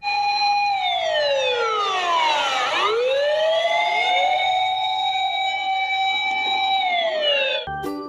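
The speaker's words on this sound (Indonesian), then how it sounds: "ternyata mobil pemadam kebakaran" A toy fire truck's electronic siren wails loudly and steadily, sweeping down and back up in a long two-tone cycle, close to the microphone with no talking over it, then cutting off abruptly at the end.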